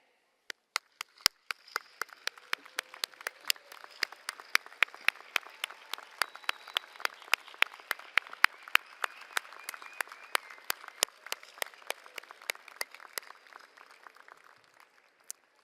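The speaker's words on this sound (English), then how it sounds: "join us in applauding families and other supporters of our students who are here today" Graduates at a Class of 2022 baccalaureate commencement applauding families and supporters: sustained applause from a large indoor crowd, with sharp individual claps standing out above a dense steady wash, fading out near the end.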